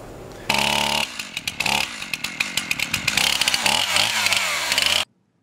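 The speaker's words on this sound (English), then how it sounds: "I'm cutting up some logs with my chainsaw" A chainsaw cuts up ash logs in a cold backyard, the engine roaring loud and close with uneven revving surges as the chain bites into the wood, then cutting off abruptly.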